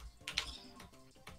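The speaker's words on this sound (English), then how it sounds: "How loud is this keyboard sound, by the way?" Computer keyboard typing during a Kirby: Nightmare in Dream Land speedrun: a quick cluster of close, clicky keystrokes, a few sharp presses in a brief burst.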